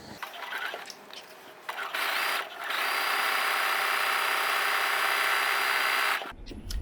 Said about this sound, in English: I am just stitching down my little decorative braid.